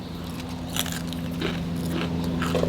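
Raw cabbage core bitten and chewed up close, a few crisp crunches followed by steady mastication against a low background hum.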